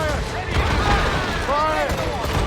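Naval cannon fire from an enemy ship in Assassin's Creed Rogue, a rattling volley of booming shots with whistling shells arcing through, set against a shouting crew and continuous battle noise.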